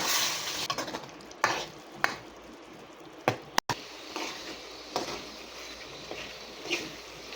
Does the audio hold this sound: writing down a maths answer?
no